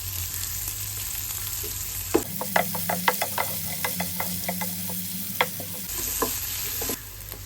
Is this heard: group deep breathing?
no